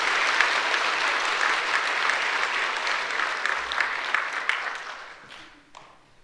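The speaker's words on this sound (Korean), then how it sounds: "다 같이 한번 큰 박수로 축하하겠습니다." A church congregation applauds warmly at an award presentation, a dense wash of clapping that holds steady and then tapers off near the end.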